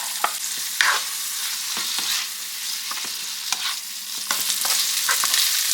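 Peppers and onions sizzle steadily in a hot pan, with repeated scraping and clinking as they are stirred, close and fairly loud with no talk.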